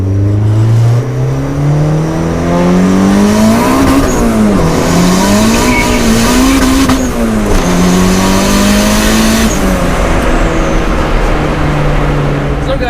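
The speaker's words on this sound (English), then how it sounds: "Clutch slipping." A car with an eBay Stage 5 clutch accelerates hard while the clutch slips, the engine revving loud and near with pitch climbing, dipping and climbing again in uneven surges before settling.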